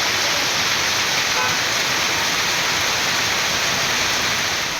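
Heavy rain pours steadily across the Kunnam area of Perambalur district, Tamil Nadu, on a second day of downpour: a dense, constant roar of falling water with no pauses and no voices.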